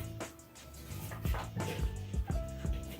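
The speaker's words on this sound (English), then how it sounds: "Here is my dog." A dog yips and whimpers in a few short, close bursts over a steady low background, with no talking.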